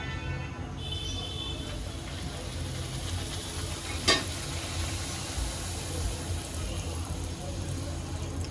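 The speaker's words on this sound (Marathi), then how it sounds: "आता ह्यात मी एक एक करून पुऱ्या सोडून घेते" Pooris slipped one at a time into hot oil over medium gas, a steady close crackling sizzle with a single sharp clink midway and no talk.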